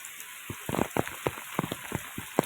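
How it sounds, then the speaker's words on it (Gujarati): Heavy rain with thunder falls on flooded farm fields, heard as a brief run of irregular drops and splashes striking a surface, fairly quiet and close, with no voices. "હજી વરસાદ તો એવો ને એવો ચાલુ છે ગાજવીજ સાથે"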